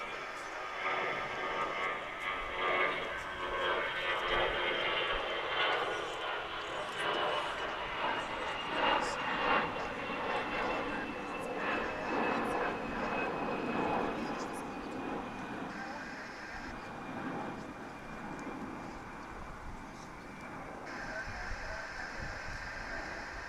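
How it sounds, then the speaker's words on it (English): American Airlines Boeing 787-8 Dreamliner landing at DFW International Airport after a long flight from Tokyo, a distant jet roar rising and then fading as it touches down, with a person talking over the engine noise. "Touching down after just a little over 11 hours in the sky. this 787-8 Dreamliner."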